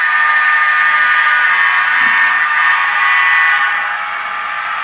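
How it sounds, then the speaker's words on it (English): An N scale Broadway Limited model steam locomotive sounds its whistle in a train room, a loud sustained steady tone held for several seconds before easing slightly at the end, heard alone without talk. "You hear the whistle blowing"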